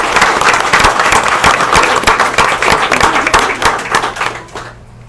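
Board of education meeting attendees give a loud round of applause for Mr. Holman, brisk crowded clapping that holds strong for several seconds before tapering off and stopping.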